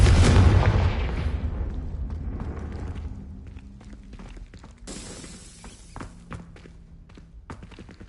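A Confringo blasting spell in Hogwarts Legacy goes off with a loud, booming burst at the start that decays over a few seconds into rumble, then scattered footsteps and small clatters follow.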